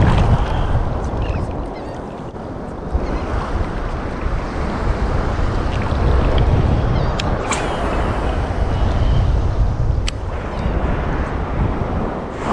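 Surf rolls in steadily along the beach at Galveston, a continuous low roar of breaking waves with wind noise and no clear pauses between sets.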